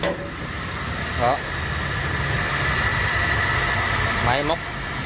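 A 2009 Toyota Innova, a used seven-seat automatic, idles with a smooth, steady engine hum, and a salesman's voice briefly rises over it twice.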